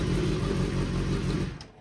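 A Honda CBR1000RR-R superbike engine, a 2024 Euro 5+ model, idling on a dyno with a steady low rumbling drone that holds evenly before tapering off at the end.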